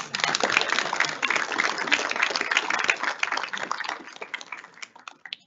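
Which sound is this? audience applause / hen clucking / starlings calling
audience applause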